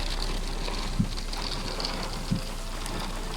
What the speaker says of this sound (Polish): Niezłe fale deszczu lecą.